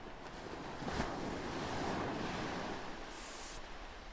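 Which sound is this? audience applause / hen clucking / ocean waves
ocean waves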